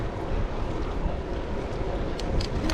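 Strong wind rushes and buffets a microphone during a group road bike ride in Dorset. The roar is loud, continuous and low, with no talking.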